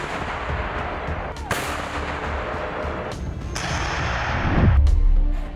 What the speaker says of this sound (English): mortar, which NATO also designated the M1975, first entered service with the Soviet military back in the 70s, but according to Kotz, still packs a wallop